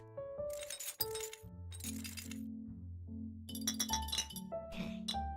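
Glass pieces from the video game A Little To The Left clink and tap in several sharp bursts, with a light bright crack near the start. Soft tones hum underneath and nobody speaks.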